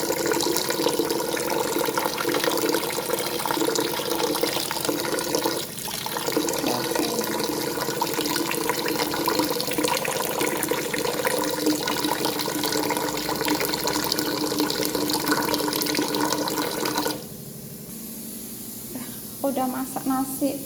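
Filtered tap water runs steadily for cooking, a broad close hiss and splash lasting most of the stretch, then it cuts down to a quieter trickle near the end.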